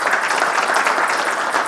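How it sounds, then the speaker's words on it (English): A lecture audience breaks into dense, sustained applause that fills the room evenly for the whole moment. "Let's give him a big round of applause."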